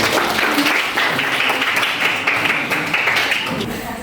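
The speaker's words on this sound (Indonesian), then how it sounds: "Oke, tepuk tangan dulu" Audience clapping at a school gathering in Indonesia, a steady dense patter of many hands lasting the whole stretch, moderately loud with faint voices underneath.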